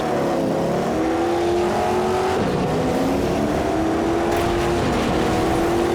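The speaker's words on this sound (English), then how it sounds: "already beginning the first lap, as which I am following a majority of the field, which are racing trucks and mud pluggers" Racing trucks and mud plugger engines in the MotorStorm game drone loudly and steadily, with pitch rising and shifting as they accelerate through the first lap, several engines layered together close up.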